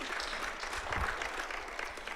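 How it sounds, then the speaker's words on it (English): Steady applause from a crowd, a dense wash of clapping that holds at an even level throughout. "round of applause for that."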